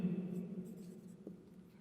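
A red marker writing on a board during a microscopy lecture, with soft scratchy strokes close by over a low steady hum, no talk.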